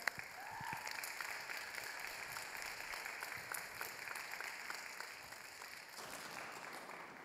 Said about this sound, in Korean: 우선은 박수로